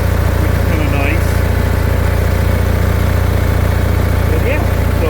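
Onan generator engine running on an RV, a steady low-pitched drone that holds evenly and continuously from start to finish, close by, with no talk.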